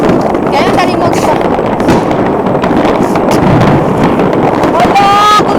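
New Year fireworks in Copenhagen, Denmark, crackle and bang continuously in a dense loud barrage, with wind rumble on the microphone and excited voices and whistles of rockets mixed in.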